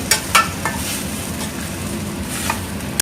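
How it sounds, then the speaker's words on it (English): A spoon stirs veggie burger filling with tomato ketchup in a hot pan, the soft vegetables hissing and sizzling continuously, with a few sharp scrapes and clinks of the utensil against the metal. "Mix well."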